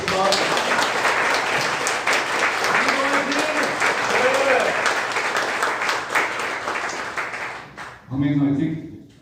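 Applause greets Hwang Myeong-seon, a Democratic Party of Korea supreme council candidate, at a core party members' meeting in Jeju. Dense clapping fills the room for about eight seconds while voices speak over it, then fades as a voice continues.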